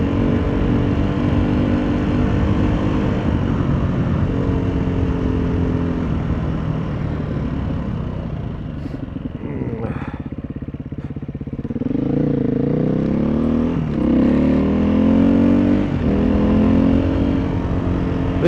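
Off-road dirt bikes on an open, wide trail, a loud continuous engine drone with revving and shifting pitch as the riders accelerate and ease off, close and steady throughout.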